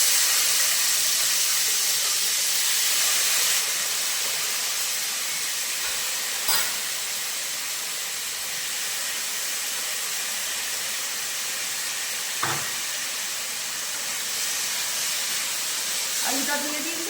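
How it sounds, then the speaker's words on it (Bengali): Washed chunks of a large potato sizzle in hot oil for an alur tarkari, a steady loud hiss that runs throughout with a few brief clinks. "এবার তেলের উপরে এই আলুটা দিয়ে দেব।"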